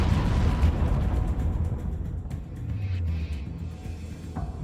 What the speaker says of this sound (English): The force of the explosion lifts the forward structure of the Arizona 30 feet into the air.